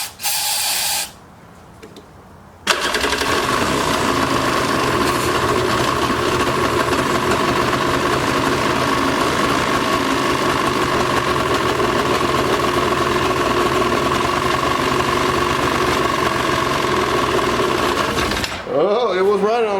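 An abandoned 1995 Yamaha WaveRunner jet ski engine runs steadily with a loud, buzzing mid-pitched drone after a short sputtering start, then cuts off near the end.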